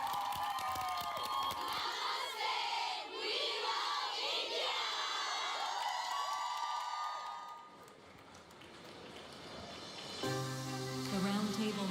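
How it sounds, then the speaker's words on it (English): A pageant audience cheers and claps for Croatia at the Miss World 2024 live show, a loud, sustained crowd roar with shouts and whoops that dips briefly before swelling again as music enters near the end. "Huge round of applause for Croatia!"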